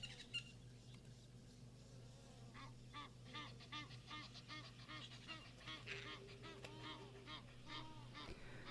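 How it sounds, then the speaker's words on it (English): Egyptian geese honk repeatedly in outdoor nature surroundings, their harsh, raspy calls coming in irregular overlapping bursts over a steady low background hum at moderate distance. "our Egyptian geese are still very much active. They're very, very noisy today."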